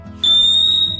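A smoke alarm being tested in a modern house, sounding a single loud, piercing steady high beep up close that holds for most of a second.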